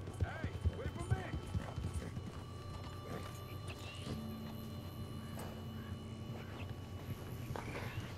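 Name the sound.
horse hooves clip-clopping while riding, from video game Red Dead Redemption 2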